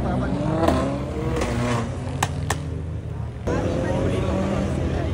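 A Perodua Bezza's engine revs and whines in rising sweeps, loud and close, with a couple of sharp clicks and people talking over it at a night car meet in Kuantan.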